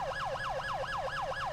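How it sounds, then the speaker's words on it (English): Rapid police siren yelp in an End of Watch roleplay video game, a fast rising-and-falling electronic wail cycling about five times, sounding with the horn button pressed together with the manual tone. "That's pressing the horn button and the B button at the same time"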